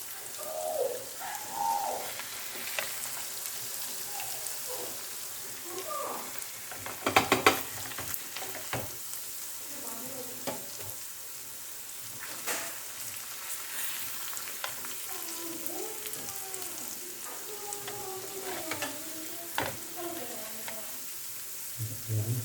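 Lemon garlic fish frying in a pan gives a steady, soft sizzle with occasional stirring clatter and a sharper clank near the middle, while faint bird chirps and coos sound in the background.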